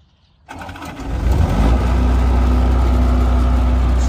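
Diesel engine of a 2007 Terex T45 truck cranking and catching after a short silence, then settling into a steady, loud, low idle with a constant rumble and no talk over it.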